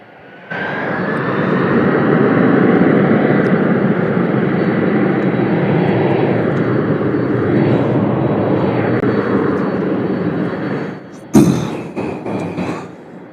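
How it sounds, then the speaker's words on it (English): Airplane at Louisville International Airport roars loudly and steadily as it passes close by, its engine whine shifting in pitch, fading slightly before a brief clatter near the end. "Could this be the last plane?"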